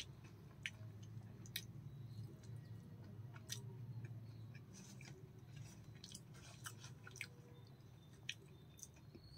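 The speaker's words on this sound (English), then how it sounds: "Then I shall taste the kala jamun." Someone eats a soft, syrupy kala jamun sweet up close: quiet moist chewing and squishing under steady low room noise, broken by occasional faint clicks, no speech.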